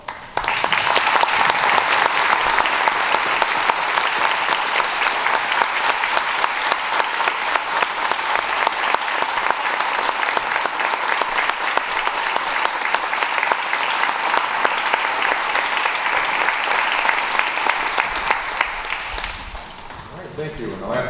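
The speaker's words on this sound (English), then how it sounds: "Can we please give them a round of applause?" Audience at a high school Veterans' Day observance applauding veterans as they stand, sustained dense clapping from a large crowd that holds steady for about nineteen seconds before tapering off.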